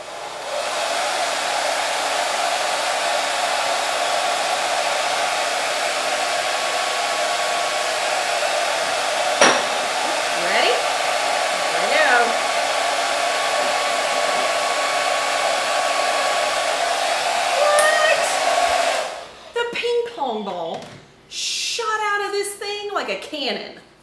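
A hair dryer blows a steady stream of air for about nineteen seconds to float a ping pong ball, loud and constant, with a few brief squeaks, then cuts off as a voice speaks.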